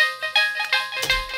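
A bright synthesizer melody from a Native Instruments Massive preset played around C6 for a hip-hop beat, short plucky notes in quick succession with a low thump near the end, close and clear without voices.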